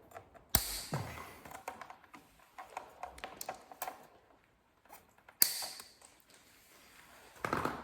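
Wires on motorcycle auxiliary lights being snipped with cutters, giving sharp metallic clicks and snaps among small tapping and handling noises, close and fairly quiet.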